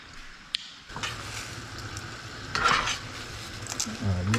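Noodles cooking in a pan with a constant sizzle and clattering stirring strokes, a sharp clink early on and louder stirring in the second half.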